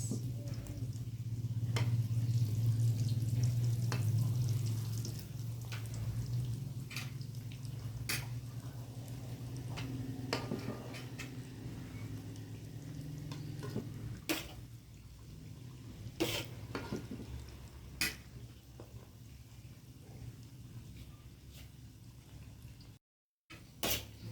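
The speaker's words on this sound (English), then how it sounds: "So that one is frying." Chicken potato spring rolls frying in a low, steady sizzle with faint bubbling, punctuated by occasional sharp clicks and taps of utensils, fairly close and continuous.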